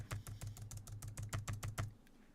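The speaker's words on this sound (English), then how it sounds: "right now I'm typing on my Mac and it's flying away" Rapid typing on a Mac computer keyboard: about a dozen close, crisp key clicks in a steady, quick rhythm for two seconds, then quiet.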